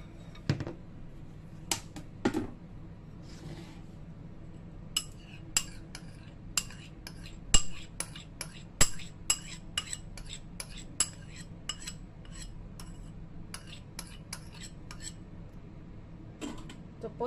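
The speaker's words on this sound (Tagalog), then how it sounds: "Ito po, halo lang po natin." A spoon stirs mung beans with condensed milk in a bowl, giving sharp clinks and scrapes against the bowl, sparse at first and then in a quick, irregular run, close and fairly quiet.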